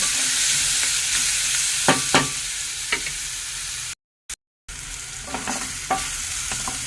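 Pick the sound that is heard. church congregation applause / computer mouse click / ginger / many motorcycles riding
ginger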